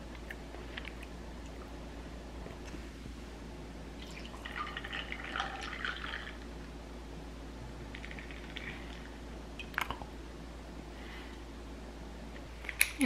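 Milk is poured into iced brown sugar boba tea over ice cubes, heard as a faint, brief pour followed by scattered drips and small clinks in a quiet room.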